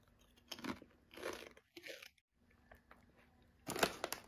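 Close, crisp crunching bites into an onion-flavoured snack bought at a supermarket, followed by a few bursts of chewing with quiet pauses between them and a final loud crunch.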